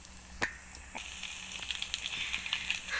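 Bread rolls fry in hot oil with a soft, steady sizzle broken by scattered pops and crackles, close and fairly quiet.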